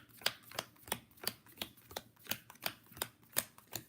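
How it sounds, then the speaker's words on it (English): Board game villain cards being shuffled, a quick series of about a dozen crisp riffling snaps in steady rhythm, close and fairly quiet, with no voices. "So we're going to shuffle up the rest of the villain cards."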